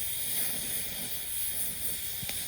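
Steady hiss and crackle of metal being welded into a pyramid sculpture as filler rod is fed into the molten puddle, continuous and close throughout.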